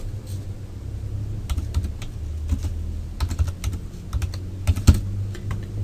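Steady typing on a computer keyboard, with a quick run of close, crisp key clicks and a few louder taps, heard alone over a low background hum.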